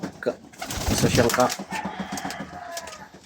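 Young racing pigeons in a loft coo and flutter close by, with soft repeated calls and wing rustles mixed with a voice talking over them.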